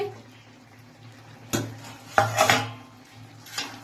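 Lid lifted off a cooking pot of small-fish bati chorchori, with a few sharp metallic clanks and utensil clatters over a low stove hum, close and moderately loud.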